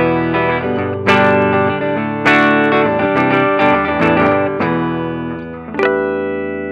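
Electric guitar played with a clean tone through a Mooer Cab X2 pedal, loud close chords and single notes ringing out and decaying, several strums struck in sequence, with reverb and no talking.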